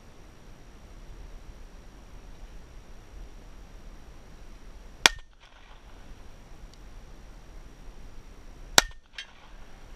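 A Ruger Mark III pistol fires two sharp, separate shots at a 60-metre range, each crack cutting through a steady background hiss with a few seconds of quiet between them.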